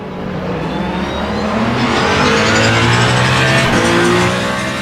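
A Porsche race car in the video game Le Mans Ultimate closes in from behind, its engine revving hard in a loud, rising whine that holds steady and swells across the stretch with no talk.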